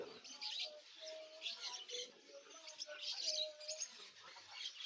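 Soft pigeon coos repeat among a busy chorus of chirping birds at Souq Waqif market in Qatar, steady background chatter of many birds close by.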